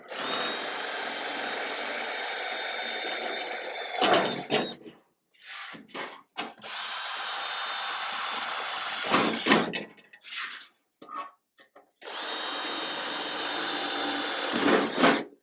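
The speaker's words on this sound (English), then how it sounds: "Just gonna drill through." A power drill whines steadily in three long runs, each ending in clattering bursts and pauses, close and fairly loud, while fabricating a custom car roof and exhaust.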